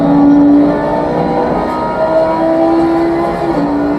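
A race car engine in the sim racing game Assetto Corsa Competizione drones loud and close, holding steady tones and then climbing through the revs, with a short shift and no voices.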